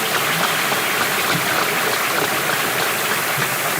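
An audience at a 2021 high school graduation ceremony applauds the graduating seniors: a loud, dense, unbroken wash of clapping from many hands, steady throughout with no voices standing out.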